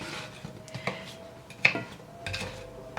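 Heavy whipping cream is stirred into cauliflower in a seasoned cast iron skillet on a stove, with scattered spoon scrapes and light clinks against the pan over a faint background hum.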